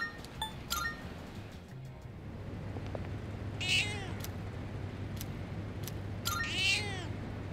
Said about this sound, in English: We have to feed that stupid cat again.